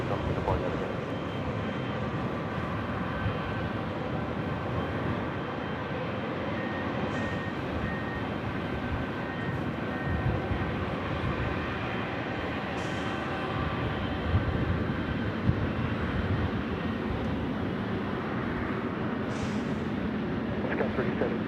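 Airliner taking off from runway 24 left at LAX: a broad, steady jet engine roar sustained throughout at moderate distance, with no break or clear rise in level.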